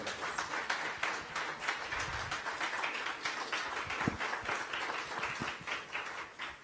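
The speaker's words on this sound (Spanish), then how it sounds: "Les damos un aplauso, por favor, muy fuerte." An audience at a family conference applauds steadily throughout, a soft, distant patter of many hands clapping with no voices over it.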